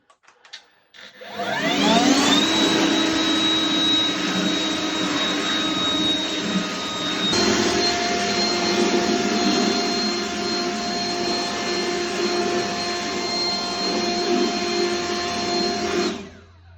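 Compressed air blows steadily across a wire wheel to dry it after a chemical cleaning, a loud continuous hiss and roar with a whining tone that holds for about fifteen seconds before stopping.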